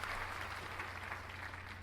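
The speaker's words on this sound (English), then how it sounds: "There was a small smattering of applause." A small, faint smattering of applause from a theater audience in the Asagao Academy video game, a soft steady patter of clapping heard alone for a couple of seconds.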